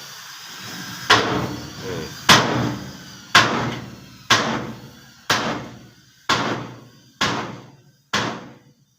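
Metal car body panel being hammered to knock out a dent, eight sharp ringing blows at a steady slow pace, each decaying quickly, loud and close in a quiet workshop.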